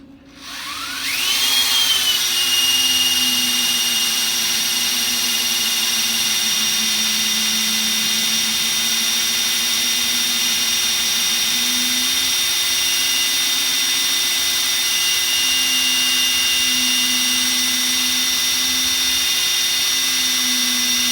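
An iSta Breeze i500 wind turbine spins up on a bench test rig and runs under load, a sustained high-pitched whine that climbs quickly then holds steady with a slowly wavering hum beneath, loud and close, with no talk.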